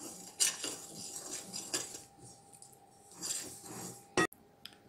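A utensil scrapes and clinks against a bowl while bûche batter with sifted flour is mixed, in a few soft strokes, with one sharp knock near the end, close and quiet.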